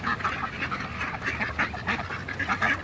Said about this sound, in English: Whoa, quack quack.